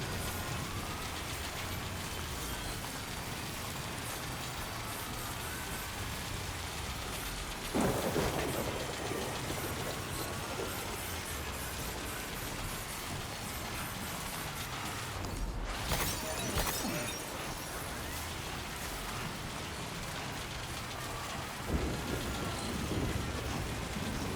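Steady heavy rain pours in Death Stranding 2 on PS5, with sharp cracks of thunder breaking through twice and a low rumble rolling under the downpour.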